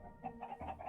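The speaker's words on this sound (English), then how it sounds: "Oh my god, there's chickens!" Chickens clucking in a video game during a livestream, a short run of repeated clucks at moderate level over a steady background bed, with no talk in this moment.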